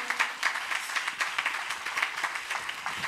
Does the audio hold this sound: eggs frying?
no